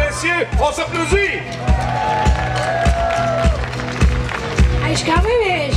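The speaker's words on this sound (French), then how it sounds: "On s'applaudit!" Festival crowd at the Sud en Fête outdoor concert in Shawinigan clapping in a steady, rhythmic beat over background music, with shouts and a voice rising above the applause.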